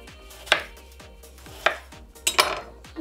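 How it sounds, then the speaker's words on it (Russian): Knife chopping tomatoes into thin slices on a board, several crisp close cuts about a second apart, with a double knock near the end and no talking. "Помидорки мы режем тоже небольшими,"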